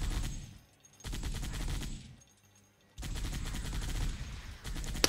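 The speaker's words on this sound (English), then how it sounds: "The turret sound, which is pretty nice." A Halo 3-style mounted turret gun firing in a modded Halo 4 campaign, loud sustained bursts of rapid automatic fire broken by two short pauses, with no talk.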